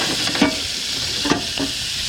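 Squid calamari pieces frying in oil and butter give a steady sizzle with a few soft stirring scrapes and clicks, close and moderately loud, with no talk.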